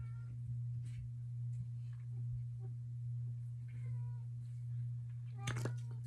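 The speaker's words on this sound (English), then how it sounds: "That's my male cat." A male cat meows several times, faint and thin, over a steady low electrical hum in a quiet room, with a brief louder burst near the end.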